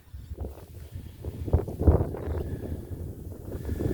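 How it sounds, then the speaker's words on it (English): Steady wind buffeting a microphone, low rumbling gusts that swell and fade, louder around the middle and again near the end. "Very windy."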